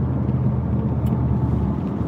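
A big truck drives in the next lane, a loud steady low rumble and road roar heard from inside a moving vehicle, continuous and close, without speech.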